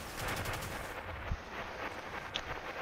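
Rapid gunfire in the video game Onslaught as shots are aimed at a rock, a dense run of bursts that thins after the first second, with one sharp louder report and a brief high ping later.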